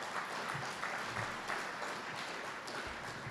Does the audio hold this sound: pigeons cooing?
no